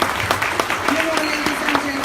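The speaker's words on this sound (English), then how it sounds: "Could you give her a big round of applause?" Luncheon audience applauding an MC at an awards event, a steady even patter of clapping through the whole moment with faint voices mixed in.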